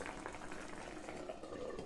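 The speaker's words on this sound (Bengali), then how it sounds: "মাছ দেওয়ার পর ঝোল ভালোভাবে ফুটে উঠলে ঢাকা দিয়ে দেব।" Pabda fish curry gravy bubbles at a steady boil in a pan, with a dense, continuous hiss and gurgle close by.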